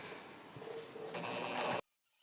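Sewing machine doing free motion quilting on an appliqué table topper, a steady close whirring stitch run that rises slightly before stopping abruptly, followed by near silence.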